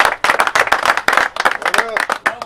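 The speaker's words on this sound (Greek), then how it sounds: "Χειροκρότημα ήταν αυτό." People clap in quick, loud bursts at close range on a Thessaloniki rooftop pigeon loft, the sharp slaps mixed with voices talking.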